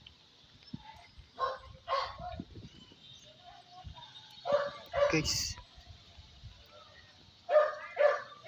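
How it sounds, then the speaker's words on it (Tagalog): A dog barks in pairs at a hillside hut in the Philippines, sharp and moderately distant, with three double barks spaced a few seconds apart as a person speaks briefly between them. "May aso dito, guys."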